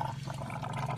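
Tracer gas bubbles through water at a buried pipe leak, a faint continuous gurgling and burbling over a low steady hum.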